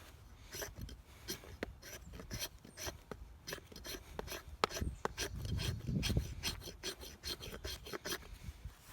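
A knife spine scrapes along wood, shaving off curls in a quick series of short, rasping strokes at close range, with low rumbling handling noise beneath and no talk.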